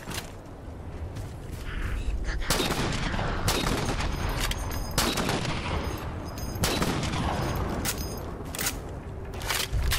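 Rapid video-game gunfire from Halo 4, loud and dense bursts of shots with sharp cracks layered over a constant roar of battle, running steadily through the whole stretch.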